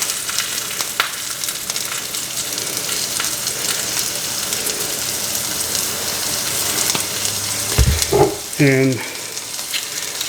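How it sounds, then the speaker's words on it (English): Onions glazing with honey in a hot pan for a bacon weave cheeseburger give off a steady, close crackling sizzle that runs throughout, with a brief spoken word near the end. "I'm just gonna glaze the onions with a little bit of honey"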